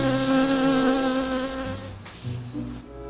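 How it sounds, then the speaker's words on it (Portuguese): A bee buzzes close by indoors in a freshly cleaned house, a steady harmonic drone that wavers in pitch as the insect moves, dipping and returning near the end, with no talk over it. "Eita, olha a abelha aí."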